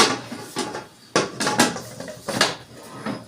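A metal weight is set onto a pressure cooker lid in a home kitchen while cooking palak chicken with potatoes, a series of sharp clinks and taps with quiet gaps between.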